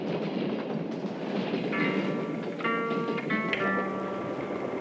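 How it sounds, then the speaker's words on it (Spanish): A crowded train crosses the Soviet Union after the Second World War, a steady loud rumble of rolling wagons with brief high metallic squeals and tones partway through, no voices. "trenes abarrotados atraviesan la Unión Soviética"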